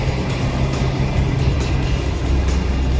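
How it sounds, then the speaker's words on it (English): A damaged Fuso Pantech 6x2 truck's engine idles after a road collision, a steady low rumble with strong low-end drone holding constant and close throughout. "So look, the engine is still running"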